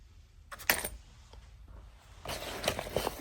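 A waterproof zipper pouch holding money and cards is handled up close, giving short crinkly rustles and small clinking, jangly taps in two brief bursts with a quiet stretch between, no talking.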